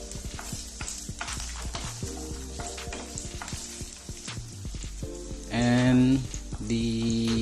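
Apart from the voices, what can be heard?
garlic and ginger frying in a pan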